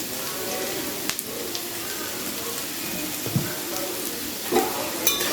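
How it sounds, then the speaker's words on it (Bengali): Vegetables for sabudana pulao frying in a pan after salt and turmeric go in, a steady soft sizzle with occasional stirring scrapes and clinks throughout. "এবারে নুন হলুদ দেওয়ার পরে খুব ভালো করে আবারও একবার ভেজে নেব"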